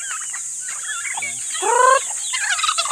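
Backyard chickens and turkeys: a turkey gobbles in a loud rattling burst amid clucks and chirpy calls, over a constant high-pitched hiss; a voice says a single short word.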